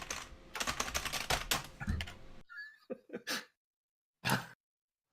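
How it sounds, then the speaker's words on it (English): Fast, aggressive typing hammers a computer keyboard in a dense burst of clacks for about two seconds, then a few isolated, sharp key strikes separated by silence. "This aggressive typing doesn't bode well for the group."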